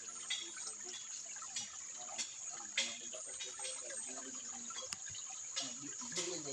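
Water trickles and gurgles as it flows out from beneath rocks from an underground source, a faint, steady babble with small irregular splashes and drips throughout.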